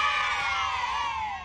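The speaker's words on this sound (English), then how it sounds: "To hell with these kids that are cheering." Children cheering and shouting together as a stream subscription alert, a dense, bright crowd-like burst of young voices that stays loud and steady before dropping off slightly at the end.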